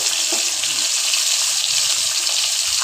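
Eggplant and potato sizzle in hot oil seasoned with nigella seeds, giving a loud, steady, hissing crackle throughout.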